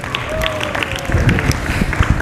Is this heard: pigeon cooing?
no